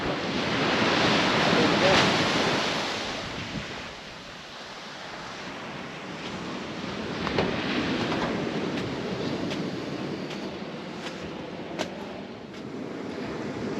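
Ocean surf rolling onto a beach north of a creek mouth as the tide comes in, a steady broad wash with gentle swells and gusts of wind buffeting the microphone, no talk.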